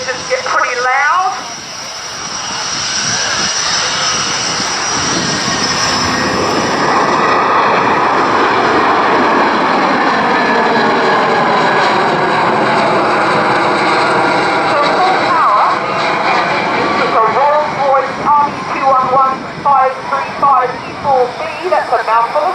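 Loud, sustained roar of jet airliner turbofan engines, each rated at 42,000 pounds of thrust, at the RNZAF Air Tattoo air show, rising and swelling steadily with a fluttering edge near the end while a voice talks over it.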